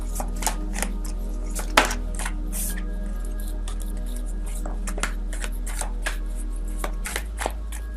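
Tarot cards are shuffled up close in repeated quick riffles and taps over a low steady hum.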